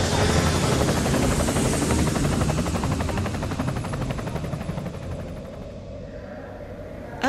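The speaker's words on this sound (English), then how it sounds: "hardy visitors to Wild Arctic are treated to a 5-minute simulated helicopter ride" A simulated helicopter ride at an attraction: a steady, loud rotor thrum fills the clip with rhythmic chopping over a dense roar, fading slightly toward the end.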